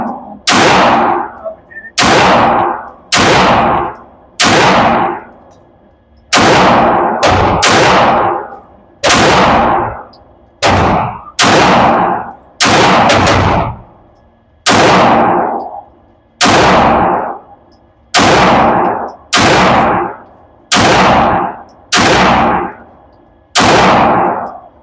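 A 9mm pistol with a swapped custom slide fires at targets on a range, about twenty loud, sharp shots in irregular pairs and singles, each followed by a short ringing decay.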